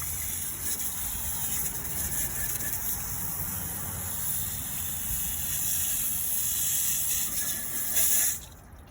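A garden hose sprays water onto a car wheel being rinsed clean before painting, a steady close hiss of water running continuously, rising briefly louder near the end before dropping off.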